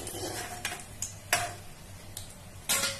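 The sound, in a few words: lifting fried lentil fritters out of the pan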